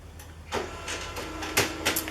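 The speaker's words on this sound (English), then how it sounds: "And you can hear the printer." An inkjet-style printer feeds and prints a single page of text, giving a series of mechanical whirs and clunks at a steady rhythm, close by in a quiet room.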